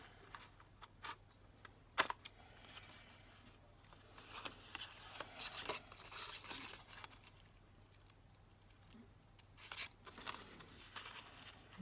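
Paper being cut with scissors for a nature bookmark, faint close snips and crinkles scattered unevenly over quiet room tone, with one sharper click near the start.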